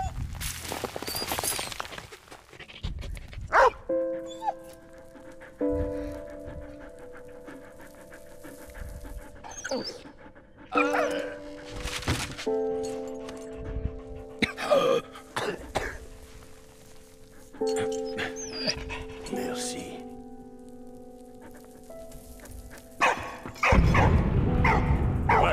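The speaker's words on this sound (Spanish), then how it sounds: "El perro." Dog from the World War I video game Valiant Hearts panting and barking, with repeated short barks and breathy pants up close, set against a steady sustained musical tone and no speech.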